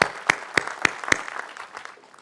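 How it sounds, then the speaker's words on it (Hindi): Applause breaks out for a noni master at an Atomy India felicitation event, opening with a few strong, separate claps that fade into lighter, scattered clapping. "नोनी के बारे में इनके जोरदार तालियां दिया जाए।"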